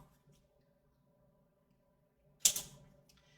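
A single crisp snip as cardstock is cut at an angle for card making, one short bright click-and-slice in an otherwise quiet room.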